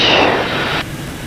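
Aircraft engine drone on a landing approach with 50% flaps, slowing toward 140, a steady broadband rush that drops away abruptly near the end of the short stretch.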